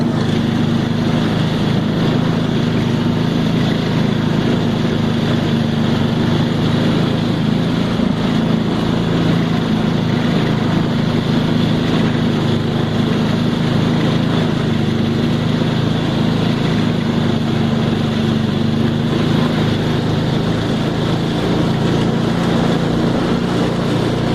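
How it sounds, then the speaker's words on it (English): An early 1960s snowmobile repowered with an 8 horsepower engine runs loud and rough outdoors, a continuous close droning rumble with a steady buzzing hum and no pauses. "This one has been repowered with an 8 horsepower friction strut, and it's still loud and it's still rough."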